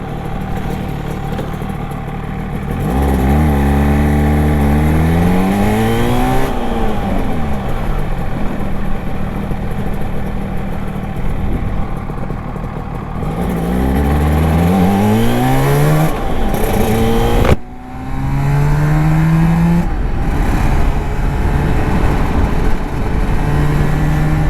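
A 1985–1989 Suzuki RG500 two-stroke motorcycle fitted with Nikon exhausts, ridden on the road: loud, close engine notes rise and fall through repeated revving and gear changes, with a brief dip around the middle before accelerating hard again.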